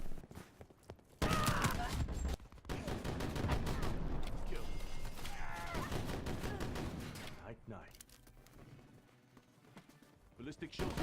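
Shotguns firing in a Call of Duty multiplayer match: loud, close blasts and rapid bursts of gunfire crowd the scene, with brief pauses and game voices mixed in.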